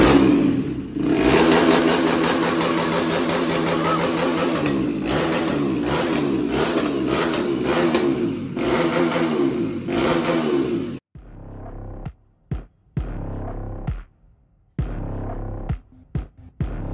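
A KTM Duke 390 motorcycle with its exhaust removed revs hard and loud for about eleven seconds, close by. Then comes a run of short, sharp throttle blips with silent gaps between them.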